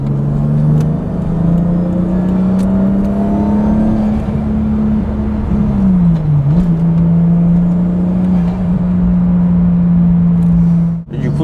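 Toyota Supra turbo JDM import engine revving after a downshift, a steady loud drone holding pitch for about ten seconds, dipping briefly mid-run, then cutting off sharply near the end.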